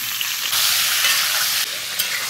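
Pork pieces fry in their own rendered fat in a pan, a loud, dense, continuous sizzle that swells and eases slightly, heard close with no talking.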